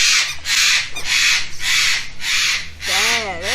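A bird close by gives a series of harsh, rhythmic squawks, about six loud raspy bursts in a row. A voice is briefly heard near the end.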